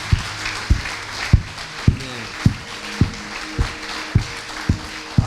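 A church congregation at a Sunday service claps together in a steady, even rhythm, about two claps per second, with a soft tonal hum underneath.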